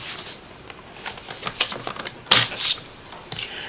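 Paper trimmer blade sliding through a cardstock house piece from a Paper Pumpkin craft kit, giving a few crisp scraping cuts and paper rustles, close and fairly quiet with no talking.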